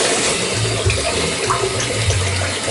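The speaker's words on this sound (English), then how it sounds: "we'll get the basin ready with the water" Tap water pours steadily into a basin being filled for dyeing hair and a beard, a close, loud, continuous gushing rush with no talking.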